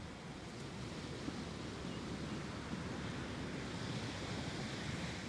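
Ocean waves wash in a soft continuous surf at a distance, faint and steady with a light breath of wind.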